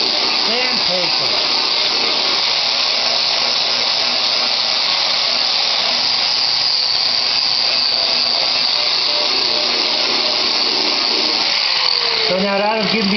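An abrasive disc equivalent to 60 grit grinds down welds during body rust repair on a 1986 Jeep, giving a loud, continuous high-pitched whine that holds steady throughout.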